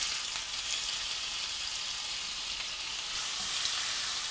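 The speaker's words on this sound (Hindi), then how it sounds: "हाई हीट पे 5 से 7 मिनट तक चिकन को फ्राई कर लेंगे" Marinated chicken with crushed garlic and ginger frying in oil over high heat, an even close sizzle that holds steady throughout.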